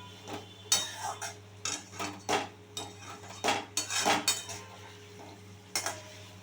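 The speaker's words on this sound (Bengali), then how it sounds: "ভালোভাবে আমি সমস্ত মশলা মিশিয়ে নিচ্ছি।" A spoon scrapes and clinks against a cooking pan while spices are stirred together, with irregular metallic knocks and scrapes over a low steady hum.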